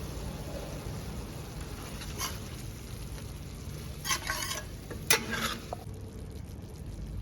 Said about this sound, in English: And now I'm going to add some heavy cream into it.